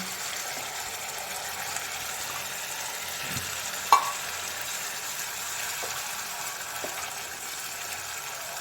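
Spinach paste for palak paneer sizzles in a pan with a steady soft hiss, broken by a few light stirring scrapes and one small clink, close and without voices.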